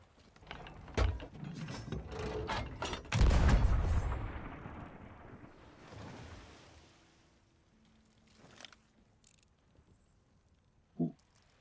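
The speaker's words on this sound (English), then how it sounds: "you want to see a massive explosion for no reason?" A big explosion in the pirate game Sea of Thieves: a sharp crack followed by a heavy boom that rolls and fades over a few seconds, with smaller thuds and a final bang later.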